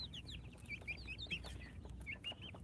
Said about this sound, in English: There are 41 chicks inside of here, although we have 343 chicks altogether.